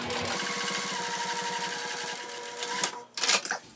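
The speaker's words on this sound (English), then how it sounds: "there's that top stitching" A sewing machine top stitching fabric on a travel pouch runs in a fast, steady mechanical whir with rapid needle clatter, then stops and is followed by a couple of louder clicks and rustles near the end.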